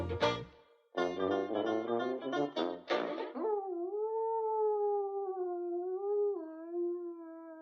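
A Muppet hound dog howls in a long, wavering, mournful tone, voiced by a performer imitating a dog, after a few seconds of bright, choppy musical notes from a band of animal musicians.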